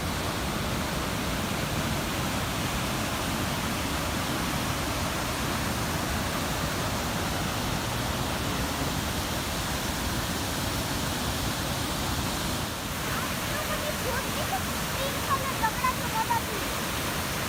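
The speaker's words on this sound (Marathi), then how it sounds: "ज्या ठिकाणी खूप मोठ्या प्रमाणामध्ये 24 तास असं पाणी पडत असतं" A large waterfall in Ottawa roars steadily, a dense, even rush of falling water that holds constant throughout without pause.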